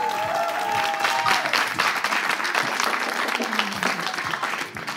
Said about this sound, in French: Merci de leur faire un tonnerre d'applaudissements,